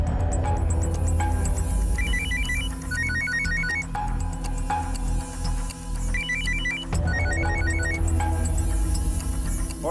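A telephone rings repeatedly in a quiet crime-drama scene, short bursts of electronic ringing at a steady rhythm over a low background hum, fairly close and with no speech.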